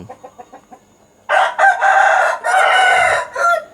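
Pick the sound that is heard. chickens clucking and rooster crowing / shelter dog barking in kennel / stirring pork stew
chickens clucking and rooster crowing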